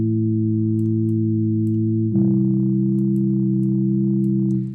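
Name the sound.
synth with distortion effect applied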